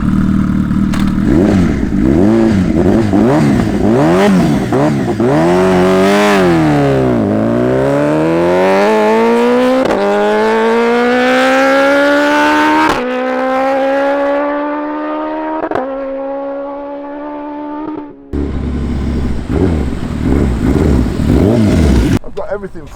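A 370hp TTS SuperBusa Hayabusa drag motorcycle launches on a wet strip, its engine revving hard and climbing through gears in loud, close rising sweeps, with a brief cut before a final burst.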